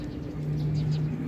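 Racing pigeons in a loft before a race, soft low cooing close by over a steady ambient hum, with a faint murmur of voices.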